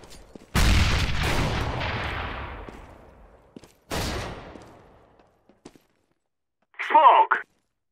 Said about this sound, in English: Flashbang. Throwing a grenade.